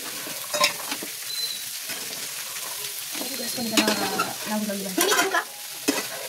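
Green peas tossed into a frying pan sizzle as they are stirred, with irregular scraping strokes and clattering bursts close up, while voices speak faintly in the background.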